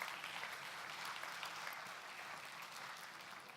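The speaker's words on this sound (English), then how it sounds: "Let's give her a big clap." An audience at a Christmas concert claps steadily, a dense, even wash of applause at moderate distance that fades slightly toward the end, with no talk heard.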